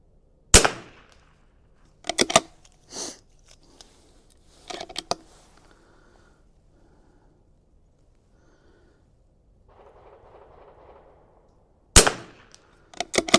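Shots from a Vudoo V22S .22LR rifle at a 100-yard range ring out as sharp cracks, singly and in quick pairs, spaced across the stretch with quiet gaps and some faint shuffling between.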